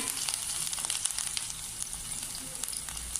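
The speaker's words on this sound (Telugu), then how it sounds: "ఆనియన్స్ వేసి గోల్డెన్ బ్రౌన్ కలర్ వచ్చేంత వరకు చక్కగా ఫ్రై చేసుకోవాలి" Chilies and onions frying in hot oil in a kadai give a steady, dense sizzle that carries on alone throughout, with small crackles and pops scattered across it.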